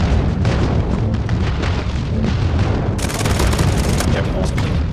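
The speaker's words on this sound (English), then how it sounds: "Friendly airstrike incoming." Airstrike explosions in the Call of Duty Mobile video game rumble continuously, growing denser and brighter in the final two seconds, under constant gameplay noise and bursts of gunfire.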